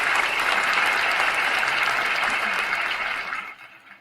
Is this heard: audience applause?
yes